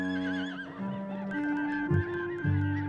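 A horse neighs in a drawn-out, wavering whinny, clear and close, with a few brief lower snorts near the end.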